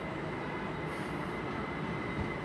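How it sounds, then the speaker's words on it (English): A terminating train from Didcot Parkway rolls into London Paddington with a steady low rumble and wheel noise, loud and continuous, with a brief faint high squeal partway through. "Coming in now is a terminating service from Didcot Parkway"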